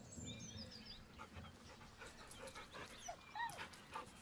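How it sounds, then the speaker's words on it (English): A dog in Baldur's Gate 3 whimpers and pants nervously, with soft high whines and breathy panting up close over a low game ambience. "The dog whimpers nervously, as if to urge you on."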